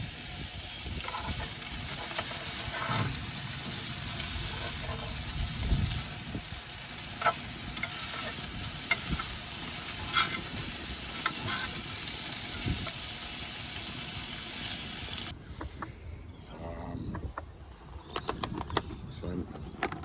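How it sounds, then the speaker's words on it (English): Pork and bones browning without oil in a frying pan give a steady, close crackling sizzle that runs continuously, then thins to sparser pops and spits near the end. "I browned up the pork and the bones in a frying pan"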